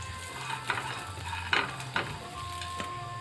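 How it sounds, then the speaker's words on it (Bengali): Cashews, raisins and chopped almonds fry in ghee in a wok, giving a low steady sizzle broken by a few sharp stirring scrapes and clinks at close range, with no voices. "কাজু কিশমিশগুলো একটু ভাজা হয়ে এসেছে"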